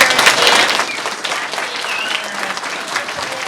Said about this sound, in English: give a round of applause to all of our music teachers